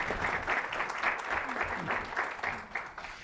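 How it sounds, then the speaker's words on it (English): Audience applause at a Board of Supervisors meeting, a steady patter of many hands clapping for a few seconds before fading slightly, with some faint talk underneath. "Let's give her a round of applause."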